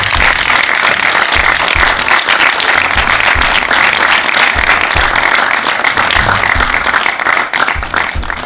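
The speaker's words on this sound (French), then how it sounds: "On peut l'applaudir très chaleureusement." Sustained, loud applause from an audience honoring a newly named honorary citizen of Saint-Pol-de-Léon, dense clapping filling the hall steadily for several seconds with a few heavier low thumps underneath.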